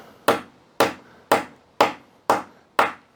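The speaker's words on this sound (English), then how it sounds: "I do have a small hammer here" A small metal hammer taps a primer into a muzzleloader's Veriflame adapter, striking six sharp, even blows at a steady rhythm about half a second apart, close and crisp.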